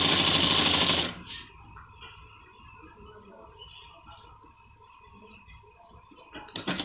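A sewing machine stitching a men's kurta, first as a brief loud fast run and then as lighter, quieter mechanical ticking and whirring that picks up again at the end.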